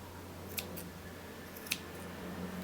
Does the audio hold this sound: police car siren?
no